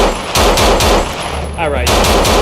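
Video game gunfire rattles in loud, rapid automatic bursts with brief gaps between them, close and harsh, with no voices.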